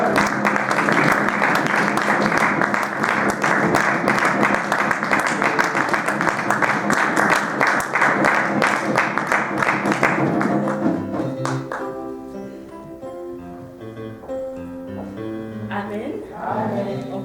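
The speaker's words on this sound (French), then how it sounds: "on acclame pour le Seigneur." A church congregation claps and cheers to acclaim the Lord, sustained dense applause with crowd voices and music, fading after about ten seconds into softer singing and instruments.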